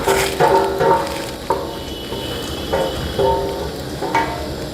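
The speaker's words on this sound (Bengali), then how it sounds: "এবার আমি মেথি শাকটা দিয়ে দিচ্ছি।" Fenugreek (methi) greens go into a pan of simmering chicken and potatoes in water, giving repeated stirring and sizzling bursts at an uneven rhythm with no talk.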